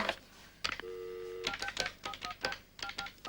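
Touch-tone telephone being dialed, late at night: a steady dial tone gives way to a quick run of separate DTMF beeps of varying pitch, close and clear, with no talk over them.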